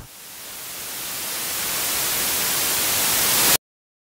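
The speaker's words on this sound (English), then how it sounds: "That, my friends, is what you call white noise." A white noise sample from a beat-making session swells steadily louder as a dense hiss over a few seconds, then cuts off abruptly into silence.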